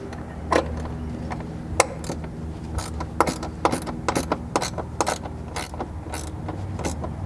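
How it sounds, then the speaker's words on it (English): A ratchet wrench works a 10mm nut off a stud on a Ford Bronco firewall, giving close, irregular metallic clicks and creaks over a low steady hum. "you're going to be removing this one 10mm head nut"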